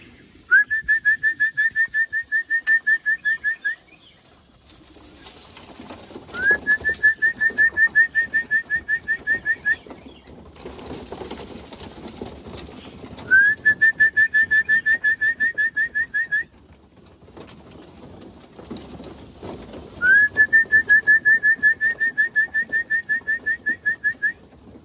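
Racing pigeons gather and flutter nearby in the back of a truck as seed is thrown, with four rising, rapidly pulsed chirping bursts separated by stretches of soft rustling and shuffling.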